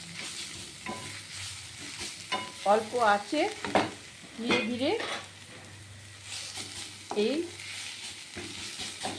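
Tender radish greens fry in a pan, dusted with a little wheat flour and pressed down as they are stirred, giving a steady sizzle with scraping stirs while someone talks over it.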